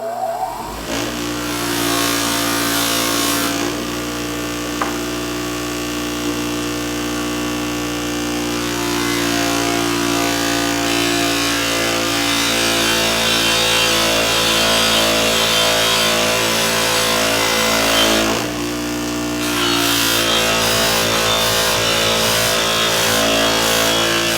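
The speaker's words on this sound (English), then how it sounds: "I'm using a cotton buffing wheel here and this white compound number 5." A motor-driven cotton buffing wheel with white compound number 5 polishes a Coleman Quicklite lantern, giving a loud, steady whirring hum that shifts in pitch and load as the part is pressed to the wheel, continuing throughout.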